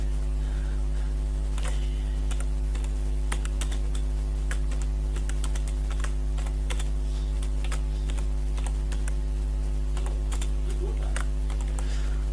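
Text is typed on a computer keyboard, with quick, irregular keystroke clicks heard up close over a steady low electrical hum.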